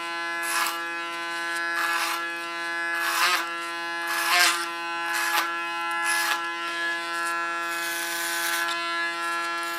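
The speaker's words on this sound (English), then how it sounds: "So you can hear that. The clipper has to work." An electric hair clipper buzzes steadily while cutting very thick hair, its drone straining and swelling in repeated passes, close and alone.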